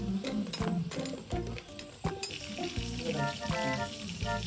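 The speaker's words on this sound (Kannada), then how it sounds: "ಫ್ರೈ ಆಗ್ತಾ ಇದೆ, ಇನ್ನೂ ಆಗಿಲ್ಲ." Crab fries in a pan, sizzling steadily with crackling pops and sharp spattering bursts, close and fairly loud throughout, with no talking.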